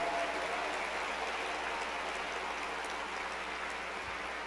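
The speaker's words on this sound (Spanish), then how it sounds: "dale bien fuerte ese aplauso a Jesús" Sustained applause from a large church congregation, a dense even patter of clapping that carries on throughout without a break.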